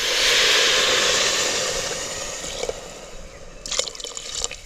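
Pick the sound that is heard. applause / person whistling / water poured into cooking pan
water poured into cooking pan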